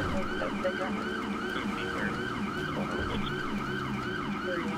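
A Whelen Sapphire Howler police siren wails in GTA 5, a fast, steady, repeating yelp cycle that runs continuously and fairly loud over engine rumble.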